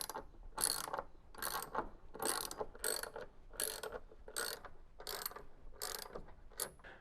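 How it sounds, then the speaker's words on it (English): Quick mechanical ratcheting in short bursts as three 13mm bolts are driven back into the counterweight of a Beko washing machine, about ten clicking runs at a steady pace, close but quiet. "When in position, you can refit the three 13mm bolts."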